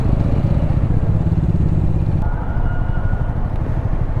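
A new two-tone grey Bajaj Dominar motorcycle running nearby in traffic, its engine a loud steady rumble with a slight shift in tone partway through.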